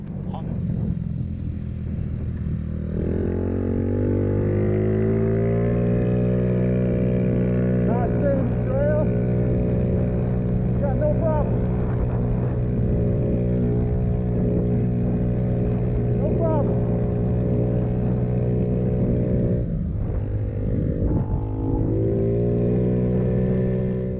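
A Honda Ruckus (NCS50) 49cc scooter engine drones steadily while riding, its pitch rising and settling as the throttle changes, loud and close throughout with some wind rush.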